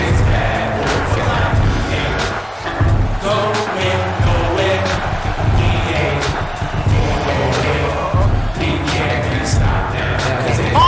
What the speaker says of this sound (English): Look at the crowd, they're loving it.